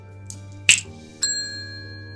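Two crisp left-hand finger snaps ring out, sharp and close, separated by about half a second, each with a short bright ringing tail over a quiet background hum.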